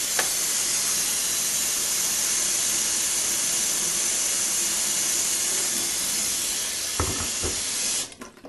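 Water from a tap pours continuously into a kettle during a refill, a steady close hiss and splash lasting about eight seconds before a few clunks as the flow stops.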